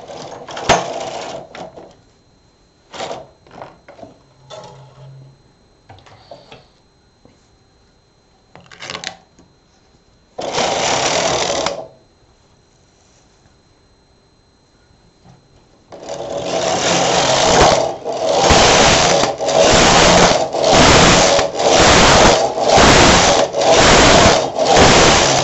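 A domestic knitting machine knits rows of a double-bed 1x1 rib neckline border. Scattered clicks and short carriage passes come first, then a run of loud, regular back-and-forth carriage sweeps, each a rushing mechanical rattle.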